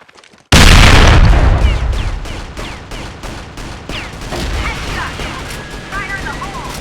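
Grenade blast in CrossFire's zombie mode on the Crater map: a loud, sudden boom breaks the silence and fades into a dense stream of rapid gunfire, thuds and scattered metallic game effects.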